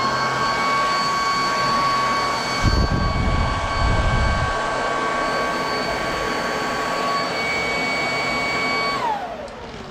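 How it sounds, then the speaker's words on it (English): A vacuum cleaner runs steadily with a loud, high whine, a brief deeper rumble partway through, then winds down at the end. "there's your Fabuletta vacuum cleaner"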